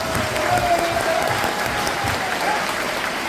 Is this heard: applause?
yes